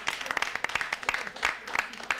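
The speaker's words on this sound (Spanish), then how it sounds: "aplausos para el campeón." Studio audience applause on an Argentine lunchtime television talk show, brisk close clapping with sharp individual claps and a voice talking over it throughout.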